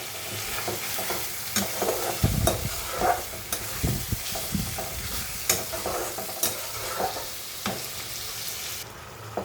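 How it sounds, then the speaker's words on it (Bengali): Tomatoes stirred into frying ground spice paste for a Bengali shukto, with a steady sizzle under repeated scraping stirs of a spatula in the pan. "যেহেতু বাটা মশলা দিচ্ছি, এটা কষাতে বেশিক্ষণ সময় লাগবে না। এখন আমি এখানে টমেটোগুলি দিয়ে দিলাম।"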